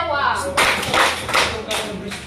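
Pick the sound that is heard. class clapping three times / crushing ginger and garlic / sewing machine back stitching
class clapping three times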